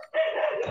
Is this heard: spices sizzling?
no